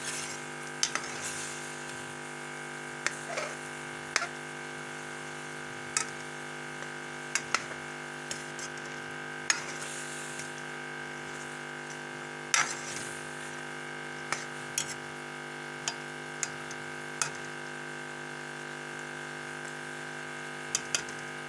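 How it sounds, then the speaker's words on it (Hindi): Chicken pieces frying in a pan for a white chicken dish, a steady close hiss of sizzling oil broken by scattered light pops and utensil ticks, with no talking. "ये चिकन फ्राई हो रहा है।"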